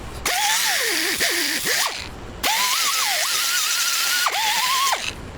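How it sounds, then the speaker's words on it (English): Power drill boring a hole into a 1996 Club Car DS golf cart, the motor whining loudly in two long bursts with pitch dipping and rising as the bit loads and frees, no talk. "you could drill a hole in there"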